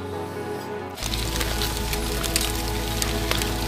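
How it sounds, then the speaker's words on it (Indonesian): Heavy rain falls on a trail up Mount Sumbing in Central Java, starting abruptly after a second as a steady, dense, close hiss of drops with scattered louder patters. "Karena hujannya semakin menjadi-jadi, Akhirnya kami memutuskan untuk beristirahat di pos 1."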